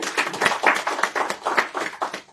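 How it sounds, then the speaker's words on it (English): A small audience claps at a launch event for an agricultural extension training app, close and distinct, with individual claps falling in a loose, rhythmic pulse for a couple of seconds. "We can give him another round of applause."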